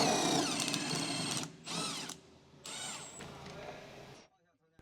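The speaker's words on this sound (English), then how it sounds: "Using the 14 mm deep socket and impact wrench, remove the bolt securing the bottom of the rear shock to the lower control arm." Power tool bursts from an impact wrench with a 14 mm deep socket removing the lower rear shock bolt on a Honda Civic EK; several loud whirring bursts with short pauses, ending in quiet.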